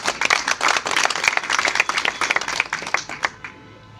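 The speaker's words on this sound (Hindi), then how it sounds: "इनका जोरदार ताली बजाकर स्वागत करें।" An audience claps and applauds to welcome guests on stage at a gathering, a dense burst of hand claps that thins out and fades to quiet by the end.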